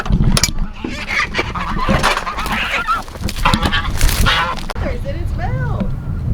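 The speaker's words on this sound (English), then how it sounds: "Oh look, that goose." Geese honk loudly and repeatedly on a farm where chickens are kept, close by, with people talking over the noise and some mechanical clatter.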